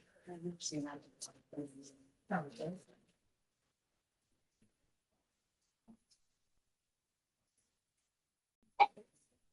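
A single short, sharp sneeze bursts out in a courtroom after a stretch of quiet, following a few moments of talking early on.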